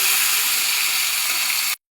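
Pointed gourd sizzles steadily in hot oil as it fries to a reddish brown for a Bengali potol chachchari, a dense, even hiss that runs without pause for nearly two seconds and then cuts off abruptly.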